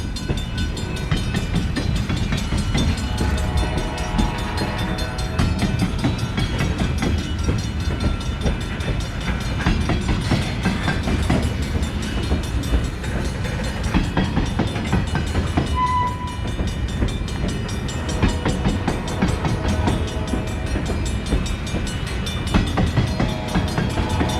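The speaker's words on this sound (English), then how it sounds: "There's a streetcar making its way down." New Orleans streetcar passing down the street on Canal Street in the early morning, a continuous loud rolling rumble and rail screech with a brief bell-like tone, heard close and alone with no talk.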